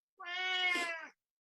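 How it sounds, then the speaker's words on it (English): A house cat gives a single drawn-out meow, about one second long, clear and close in an otherwise quiet indoor room. "Cat doesn't agree with me, okay?"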